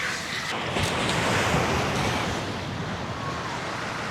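Ocean surf washes in a steady, broad roar, swelling slightly mid-way, with breezy wind rushing across the microphone outdoors; no voices are heard.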